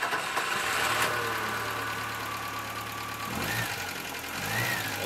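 A 1970s Ford Escort MK1 engine runs close by, idling with a low steady drone before a throttle blip raises the revs in a couple of short rising surges; no talking.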